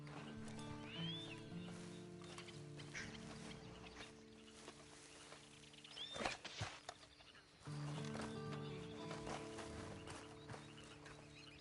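Horse hooves clop in a steady walking rhythm in a video game, over a droning musical background, with a brief horse whinny partway through.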